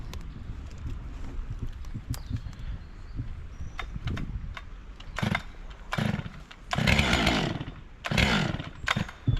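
A Stihl MS 462C chainsaw cuts firewood during communal wood-cutting, its engine revving in repeated loud bursts that rise and fall with short gaps between cuts.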